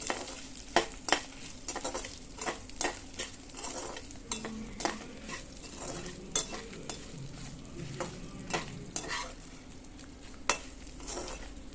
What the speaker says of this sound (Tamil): லைட்டாக இளஞ்சிவப்பு வர்ற மாதிரி வதக்கிக்கோங்க.